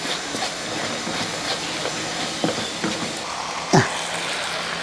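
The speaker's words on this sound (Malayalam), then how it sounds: "ആ ഒരു സൗണ്ട് വേണ്ട അപ്പുറത്തെ കെട്ടിടം പണി കേട്ടോ അതിൻ്റെ ആ സൗണ്ട്" Construction work at a neighbouring building carries on as continuous broadband hiss and rumble, with scattered clanks and one sharp metallic screech near the end, moderately loud with no voices.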